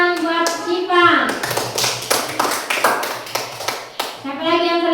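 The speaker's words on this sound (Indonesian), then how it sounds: "tepuk tangan buat Syifa" A classroom group claps for a student at an Islamic primary school, a burst of quick, bright overlapping handclaps that runs for several seconds between a sung line at the start and more singing at the end.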